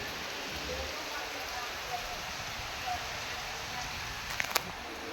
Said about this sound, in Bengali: দেখো কেমন বৃষ্টি হচ্ছে, দেখো মন্দিরে পুরো সব ভিজে গেছে, কী পরিমাণে বৃষ্টি হচ্ছে